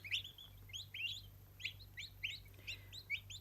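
Newly hatched turkey poults peep in a quick run of high, thin chirps, several birds calling close together over a low steady hum, with no talking.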